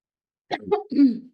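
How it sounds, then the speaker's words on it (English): A single rough cough in two quick bursts, close and fairly loud, after a moment of silence. "So sorry, my cough."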